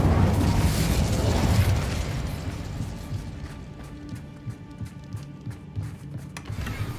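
An Incendio fire spell in a video game bursts with a loud fiery whoosh and rumble that fades into crackling debris and scattered clinks and pops, close and without speech.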